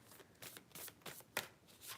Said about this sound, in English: Let's shuffle these bad boys and see what comes out.